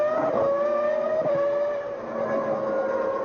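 Formula 1 race cars of Frentzen and Villeneuve at the 2001 US Grand Prix, a sustained high-pitched engine whine with shifting harmonics as the cars scream past, loud and continuous with no talk.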